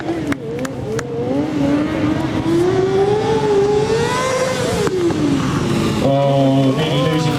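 A Kawasaki motorbike ridden hard in a stunt show, engine revving and wailing in rising and falling pitch through drifts and tricks, loud and close over crowd noise and a voice on a public address system.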